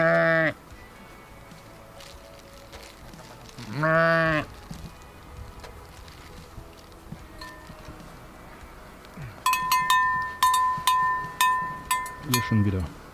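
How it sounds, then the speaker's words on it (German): Sheep begging for food, bleating loudly twice at close range in an outdoor setting, followed by a run of bright metallic clinks and a few more rough calls near the end. "auch hier wird man von Schafen um Futter angepumpt"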